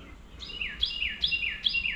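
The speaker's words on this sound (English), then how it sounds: "Then we got the Chiba Chiba Chiba bird out." A songbird near backyard feeders repeats a bright, downward-sliding call four times in a steady rhythm, heard clearly over faint low background noise.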